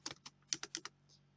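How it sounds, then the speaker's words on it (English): Quick typing on a computer keyboard: a short burst of several crisp keystrokes in an irregular rhythm, close and fairly quiet, with no talking. "It looked like a lot of typing there, didn't it?"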